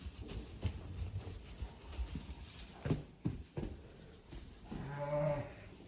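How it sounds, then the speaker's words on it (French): Lambs romping inside a sheepfold in winter, their scuffling hooves and bodies patter close by in uneven bursts, with a short bleat rising near the end. "ils font les fous comme ça. C'est les agneaux."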